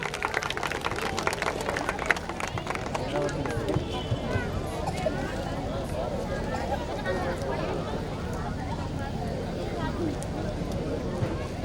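Dense, steady applause from an audience at the Horanadu Kannadotsava 2019 stage event, welcoming guests onto the stage, filling the whole stretch at an even level with a crowd murmur mixed in.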